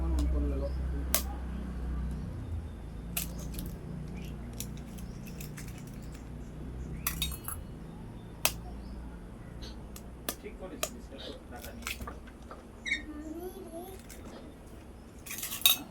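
Eggs cracked and beaten with melted sugar in a bowl for cake batter, heard as a steady run of close clinks and utensil taps against the bowl, with a low hum early on and no talking.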